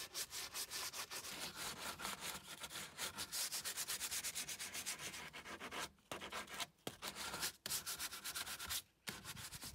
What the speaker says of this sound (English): I want to sand outside rather than inside